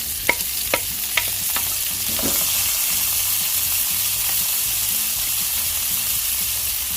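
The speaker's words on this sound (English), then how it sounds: "Saute the onions for like a minute or so." Onions and vegetables sautéing in a pan, a steady broadband sizzle with a few sharp scraping stirs near the start, close and fairly loud, no talk.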